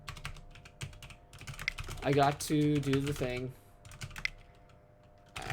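Someone types on a computer keyboard while playing an online card game, giving steady, fast clicking close to the mic. A person talks over it and briefly sings a drawn-out tune in the middle.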